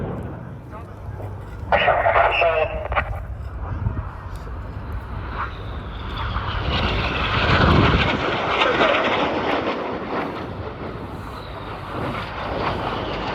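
Red Arrows display jets at the RIAT air show roar past as a broad, sustained jet rumble that builds and peaks midway, with a commentator talking over the noise throughout.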